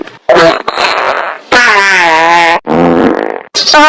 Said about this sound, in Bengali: এই খেয়ে তো আমার পাদাবাদি আরম্ভ হয়ে গেল